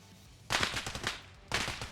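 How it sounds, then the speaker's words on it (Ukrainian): Gunfire in the military video game Arma Reforger: two quick bursts of shots, fairly distant and moderately loud, each a rapid clatter lasting about half a second. "Вони між собою стріляються?"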